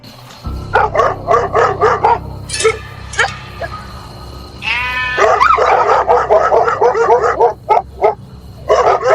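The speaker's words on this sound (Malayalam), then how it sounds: "നായ അവിടെ നിന്ന് കുരക്കുന്ന്" A dog barks in a quick, evenly spaced series, with a bleating animal call mixed in over a low steady hum.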